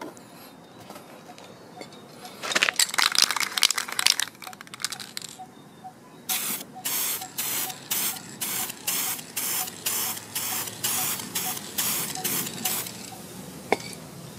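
TOA gold spray paint hissing onto an MDF board indoors, first in a few longer bursts, then a long run of short, evenly spaced sprays at close range with no talk.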